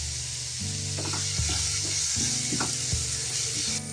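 Sliced onions and curry leaves frying in oil with salt: a steady bright hiss of sizzling, with occasional soft stirring knocks and scrapes of a spoon in the pan.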